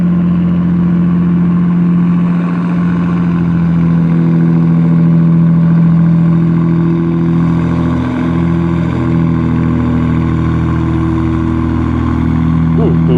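A loud, heavy tugboat engine roars and rumbles steadily up close, a constant deep drone with no break.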